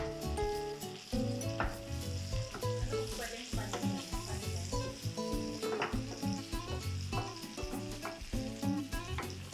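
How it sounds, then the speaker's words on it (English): Chopped onions sizzle in a pan with bacon as they are stirred for carbonara, a steady crackling fry that runs without a break from start to end. "let's put the onions in and mix."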